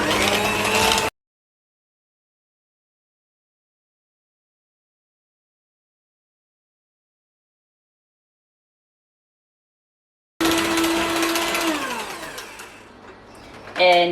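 An electric mixer beats vanilla cake batter in a brief whirring burst. A long silence follows, then a second close motor run that gradually winds down.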